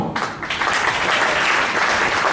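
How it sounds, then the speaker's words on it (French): An audience at a church gathering breaks into loud, steady applause, dense clapping filling the whole short moment up close. "On applaudit très fort pour le Seigneur Jésus."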